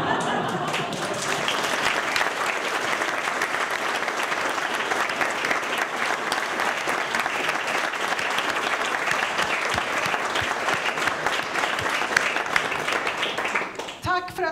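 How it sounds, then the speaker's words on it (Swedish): An audience applauds at a book launch on climate crisis solutions. The clapping is dense and sustained, loud and even throughout, and fades at the close. "Och en applåd från oss till dem som var här också."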